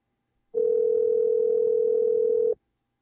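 An outgoing telephone call produces a single steady ringback tone lasting about two seconds, clear and alone against silence.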